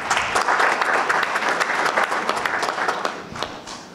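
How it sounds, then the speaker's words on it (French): Audience at a French disability and society colloquium applauding as a minister arrives, sustained dense clapping from a crowd filling the room, steady then slowly tapering. "la ministre, Madame Neuville, qui vient de nous rejoindre et que vous pouvez applaudir"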